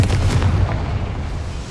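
A Confringo fire spell goes off in Hogwarts Legacy inside a small mine, a single loud blast with a deep rumbling body that fades out over a second or two, with no talk over it.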